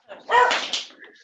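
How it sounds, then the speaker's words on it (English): A dog gives a single short bark from a nearby room, a quick yelping burst that trails off, heard alone over quiet background. "Sorry, that's our dog barking."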